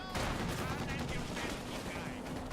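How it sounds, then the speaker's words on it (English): Gunfire in the real-time strategy game Company of Heroes 2 during a fight with an engineer squad, a dense continuous rattle of small-arms and machine-gun fire at steady loudness, mixed into game battle noise. "firing on the poor engineer squad, forcing a retreat"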